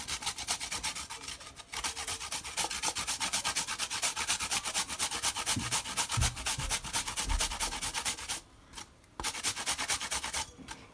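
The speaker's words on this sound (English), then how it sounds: "just grate a little bit of ginger" Fresh ginger is rubbed against a grater in quick, rhythmic rasping strokes, close and steady, broken by a couple of short pauses, with no voices.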